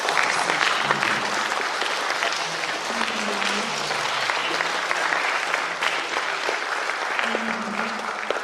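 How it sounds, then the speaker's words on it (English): Sustained audience applause at a county governments conference in Naivasha, a thick even roar of many people clapping that continues steadily throughout, with faint voices murmuring underneath. "Let us clap and give him a very hearty appreciation."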